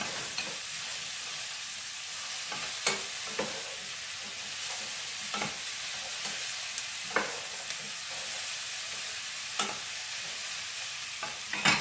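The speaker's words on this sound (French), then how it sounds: "je rajoute mon fenouil" Fennel and carrots sauté in a hot pan, a steady soft sizzle with regular sharp utensil taps and stirring scrapes every second or two, close and unaccompanied by talk.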